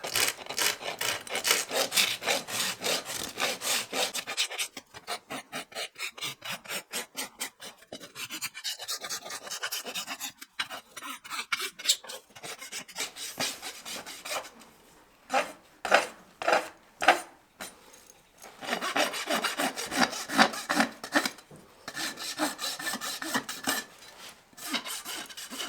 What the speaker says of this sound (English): Now as I'm kind of gathering this up with my rasp